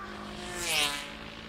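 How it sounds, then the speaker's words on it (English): A Ducati 888 racing motorcycle passing during a classic bike race, its engine note swelling to a peak mid-clip then fading away, with a high whine and steady hum underneath. "Mark Murphy away through there on that 888 Ducati"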